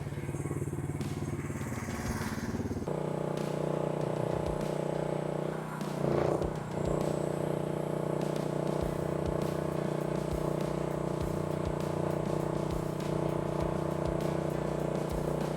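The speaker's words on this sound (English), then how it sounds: "this is a little dummy run for the Winch X" A GDB Winch X winch on a dummy run: a steady motorized drone starts around three seconds in and holds evenly to the end, with a brief clattering burst in the middle, loud and close.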